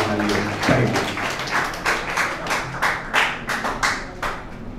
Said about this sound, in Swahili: Naomba mpigeni makofi jamani